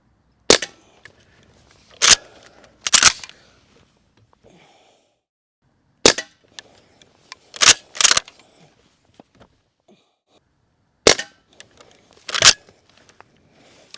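A Barra 1866 CO2 cowboy lever-action air rifle fires about seven sharp cracks in small clusters separated by pauses, close and loud, with lever clicks and handling noise between the shots.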